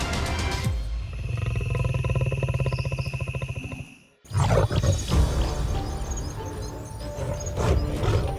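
A lion roars with deep, powerful, pulsing grunts that build over a few seconds and then break off, followed by a second loud, rough roar, with no voices over it.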